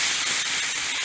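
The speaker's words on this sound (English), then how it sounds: "And that's the sizzle you wanna hear" Steak sizzles in beef tallow in a hot cast iron pan, a loud, steady, close hiss that runs unbroken and alone.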